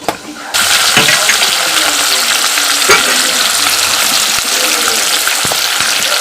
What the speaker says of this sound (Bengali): গরম তেলের মধ্যে অ্যাড করব পেঁয়াজ কুচি